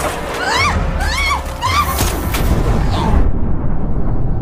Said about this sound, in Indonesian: langsung menembak gas LPG 3 kilo hingga meledak hebat.